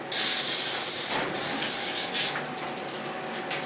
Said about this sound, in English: Oh, this is the entrance elevator.